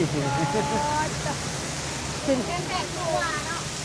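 Falling water from a waterfall near a tall building in Thailand makes a steady, loud rush with thin chirping tones and faint voices over the noise.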